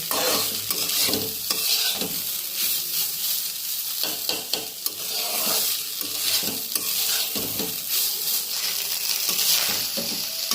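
Cooked rice being stirred and tossed in a hot wok (kadai) as fried rice, with a steady loud sizzle and repeated scraping strokes of a spatula throughout.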